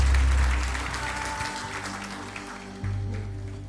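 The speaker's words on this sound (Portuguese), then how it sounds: "Aplaudam ao Senhor Jesus" A church congregation applauds, a broad wash of clapping that is loud at first and then eases, with low musical tones underneath.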